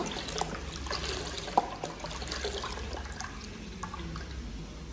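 Three litres of milk pour into a pot for a large home-cooked dessert, a steady soft liquid rush with a faint clink partway through.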